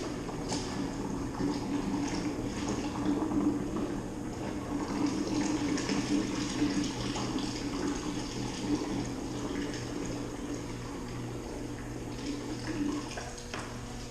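Raspberry puree poured into a primary fermenter while home brewing raspberry beer: a steady, close liquid pour that keeps up for the whole stretch with no talk.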